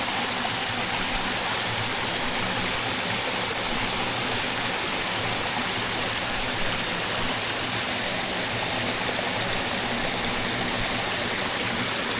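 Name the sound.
water flowing in a rice field after rain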